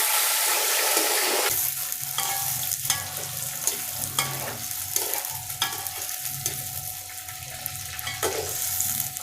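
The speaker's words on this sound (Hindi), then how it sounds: "देखिएगा आलू पे कितना ज़बरदस्त कलर आ जाएगा जब हम प्याज के साथ फ्राई करेंगे।" Cubed potatoes fry with onions and green chillies in a pan for vegetable pulao, giving a loud steady sizzle broken by the scrape of a stirring spoon throughout.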